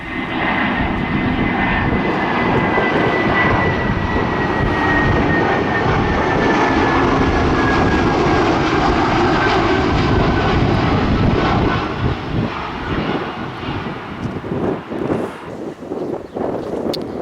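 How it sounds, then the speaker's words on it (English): A jet airplane approaching to land at Palma, Mallorca, passes overhead with a loud, sustained engine roar and a slowly falling whine. Wind gusts buffet the microphone as the sound fades toward the end. "Plane coming in, thick and fast now."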